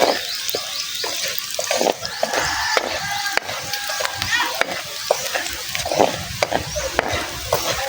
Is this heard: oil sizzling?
yes